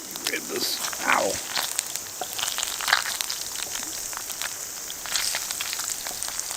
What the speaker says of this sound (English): Oh my god, it's raining.